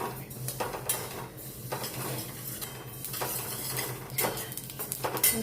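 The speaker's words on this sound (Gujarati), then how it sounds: "આ રીતે આપણે ચલાવતા જવાનું અને તલને શેકી લેવાનું" Sesame seeds are stirred and roasted in a pan over a low flame, giving a continuous rattling, scraping swish in uneven strokes, close by, with faint clinks and no talk.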